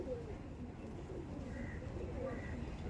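Giribaz pigeons coo softly in a loft, low rounded murmuring calls repeating close by, with faint background murmur of people nearby.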